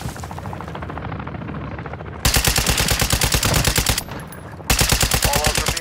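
Sustained automatic gunfire in Call of Duty DMZ, loud and close: rapid rhythmic bursts run continuously, briefly thinning before resuming at full intensity.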